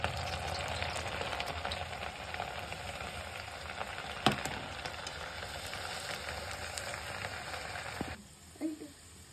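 Continuous, fairly quiet sizzling of lentils frying in a pan, with a few clinks of stirring, before the sizzle cuts off near the end.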